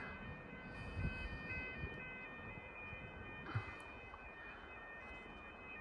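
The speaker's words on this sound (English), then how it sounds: "Excuse the bridge alarm in the background." A bridge alarm sounds at a boat yard on the Clyde at Fairlie, Scotland, a faint, steady tonal wail holding in the distance with a couple of brief closer knocks over quiet outdoor ambience.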